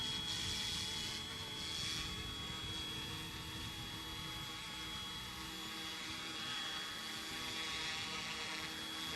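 A model helicopter settles onto a landing pad while flying into the wind, its rotor and motor giving a steady, close whirring drone with a thin high whine that holds level throughout.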